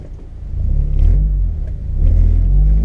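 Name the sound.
car engine revving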